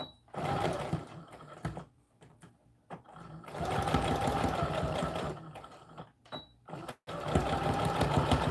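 A sewing machine stitches a McCall's American Girl doll dress in several short start-stop runs of varying length, each a steady whir broken by silent pauses.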